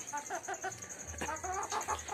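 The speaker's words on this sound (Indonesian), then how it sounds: "Ini adalah yang putih, ayam putih kemarin yang saya silangkan, ayam rare sama with leghorn ya" Crossbred chickens from a white leghorn and Rhode Island Red cross cluck in a short series of soft, close calls, with a steady background hum underneath.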